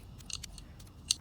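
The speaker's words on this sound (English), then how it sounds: "I'm also gonna trim the roots" Scissors snip at geranium roots in two quick, close, crisp cuts within a moment of quiet, with no talking.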